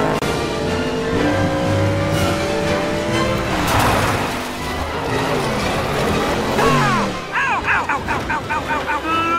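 Race cars on a European racing circuit roar past with revving, whining engines, loud and close, mixed with a boom, shifting tones and what sounds like cartoonish effects, with voices heard at times.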